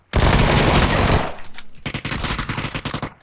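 Full-auto gunfire in the shooter PUBG on the Sanhok map: a loud, dense burst of rapid shots for about a second, then a choppier string of shorter bursts and single cracks that continue to the end.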